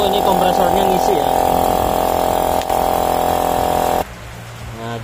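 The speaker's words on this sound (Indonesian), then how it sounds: "Biarin dulu ini kompresornya ngisi ya." An air compressor runs and fills its tank during the servicing of a Modena built-in stove, a loud, steady motor drone with a whining tone that cuts off abruptly near the end, leaving a quieter hum.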